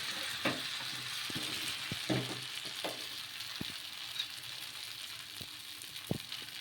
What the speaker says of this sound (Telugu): ఈ గోధుమ పిండి బ్యాటర్ని అయితే ఇప్పుడు వేసుకోవాలి దోశలాగా